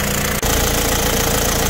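A car engine idles with a steady, loud mechanical drone and vibration, briefly interrupted by a short dip before settling back to a constant hum.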